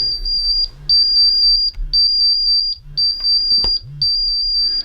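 An alarm at its set limit beeps in a steady repeating pattern, loud, high-pitched tones lasting nearly a second each with short gaps, accompanied by a lower pulsing tone, with faint background noise and no clear speech.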